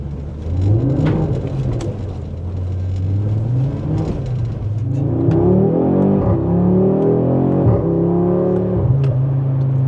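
An 8Y Audi RS3 with an ECS exhaust revs up and down repeatedly with a deep, loud engine tone and rising and falling pitch, close by with no voices.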